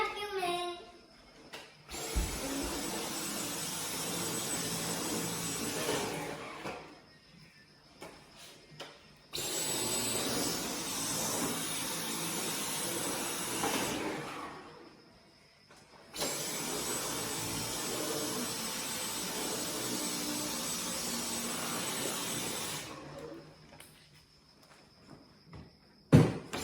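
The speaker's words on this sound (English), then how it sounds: "vacuuming with my Dyson vacuum" A Dyson vacuum cleaner runs in a living area with a loud, steady whirring roar. It switches off and back on twice, leaving short quiet gaps with small handling noises.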